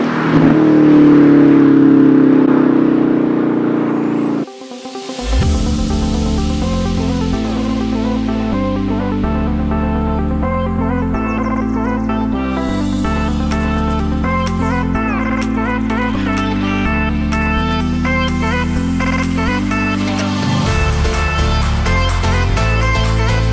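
A 2018 Mustang with a Whipple 3.0 supercharger and 744 horsepower accelerates hard, loud and close, its engine climbing through gears in a long roar with supercharger whine, after a brief drop in sound.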